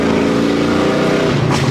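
A supercharged 2004 Mustang GT with a 4.6 2V V8 accelerates hard, its loud, steady engine roar filling the short stretch close up with no talk over it.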